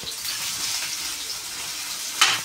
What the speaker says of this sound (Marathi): आता हा कांदा फ्राय करू।